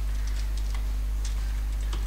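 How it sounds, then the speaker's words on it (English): Typing on a computer keyboard while entering a web address into the search bar of the Google Chrome browser, a quiet patter of scattered keystrokes over a steady low electrical hum. "in the search bar click over there and type in"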